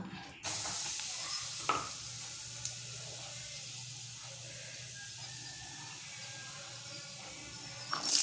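Fennel seeds crackling and sizzling in hot oil in a kadai: a steady close hiss runs throughout, with occasional spatters and a louder pop near the end.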